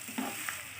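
Fish roe frying with onions in a pan, giving a faint, steady sizzle with a brief stirring scrape over less than a second, with no voices.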